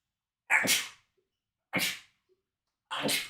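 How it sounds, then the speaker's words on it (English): Three explosive sneezes, close and loud, spaced about a second apart with silence between them. "I'm going to sneeze, bear with me."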